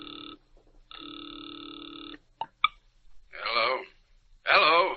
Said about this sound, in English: the ringing of a distant phone in his ears